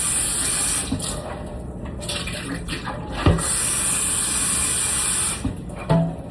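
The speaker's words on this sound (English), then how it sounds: "We'll just dump that out and rinse it out." Dirty water is dumped out of the uwant D100 floor cleaner's tank and rinsed, a loud, continuous splashing gush of running water into a sink, with a few clunks of the tank being handled.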